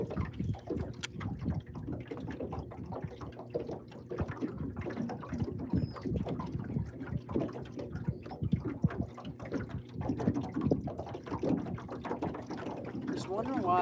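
A boat engine runs on open water during a fishing outing, a steady rumbling drone with water and wind noise throughout, while people talk over it.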